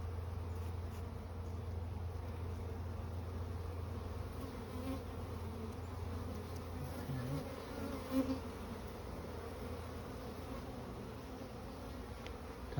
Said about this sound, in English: Top barbs seem to be full of bees